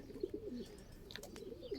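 Pet pigeons coo softly in a short, faint burst, with a few light chirps and no talking.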